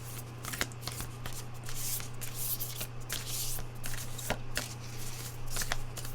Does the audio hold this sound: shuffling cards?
yes